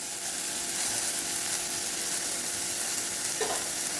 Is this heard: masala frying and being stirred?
yes